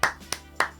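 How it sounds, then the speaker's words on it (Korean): Three sharp, close hand claps ring out at an even, unhurried pace, each a crisp isolated slap with brief quiet between. "박수를 보냅니다."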